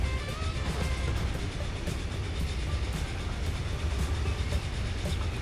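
Train running on track in the game Transport Fever 2, a steady, loud rumble with a regular clickety-clack of wheels over rail joints, continuous and close throughout, with no talk.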